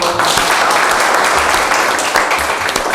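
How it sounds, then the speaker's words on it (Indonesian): Loud, dense applause from an audience at an alumni talk session fills the space, a steady wash of many hands clapping without a break for the full stretch. "Tepuk tangan dong."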